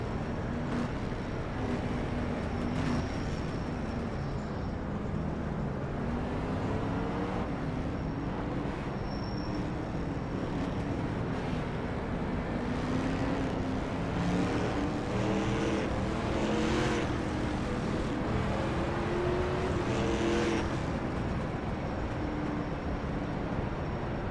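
Street stock race cars on the Charlotte oval in iRacing drone at full throttle in a steady, loud engine roar that rises and falls slightly as they lap together, with no talking.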